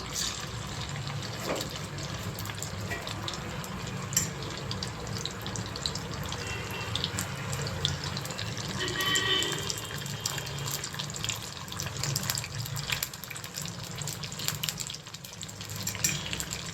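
Prawns tossed with curry leaves into hot oil crackle and bubble in a steady, dense sizzle that runs throughout, fairly close and continuous with no voices.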